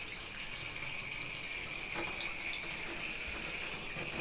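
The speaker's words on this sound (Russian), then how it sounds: "Вот водичка побежала" Water runs from the tap of a water heater boiler after its magnesium anode and pressure relief valve were replaced, a steady close hiss and splash of flow throughout.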